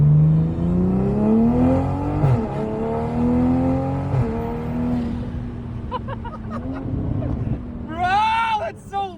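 A car engine revs through an aftermarket Alibaba exhaust with turbo, a loud droning note rising and falling in pitch as the throttle is worked, with people talking and exclaiming over it.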